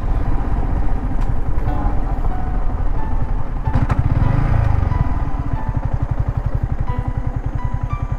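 Motorbike riding up to Nambi Kovil near Tirunelveli, a loud close engine with a steady rapid chugging beat that holds throughout as the bike slows to stop.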